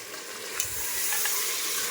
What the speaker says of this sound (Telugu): బాగా కలుపుకొని మసాలా కూడా బాగా వేగాల.